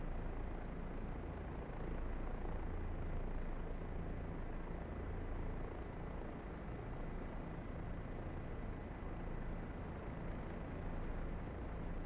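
A helicopter in the DCS flight simulator hums with a steady, droning rotor and engine noise, constant and unbroken at moderate volume with no voices over it.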